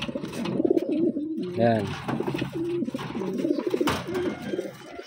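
Pigeons coo in a loft where fancy breeding birds with round bodies are kept, soft repeated cooing close by and mixed with someone talking over it throughout.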